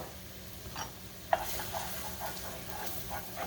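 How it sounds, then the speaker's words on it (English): Minced garlic sizzling in a pot while being stirred, a soft steady frying hiss with faint scraping stir sounds and one sharp clink near the start, close and quiet with no talk. "you want to keep stirring that because you don't want that garlic to burn"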